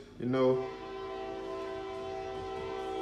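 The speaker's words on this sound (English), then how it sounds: "you got this train, this loud train where I'm at nowadays" Loud train close by, a horn blast with strong steady harmonic tones at the start, then a sustained held tone over a continuous low rumble for the rest of the clip, with no speech.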